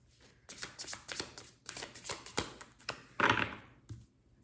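A deck of dream oracle cards is shuffled with close, crisp riffling and snapping bursts, then a card is drawn with a sharp flick and a soft tap at the end. No talk is heard.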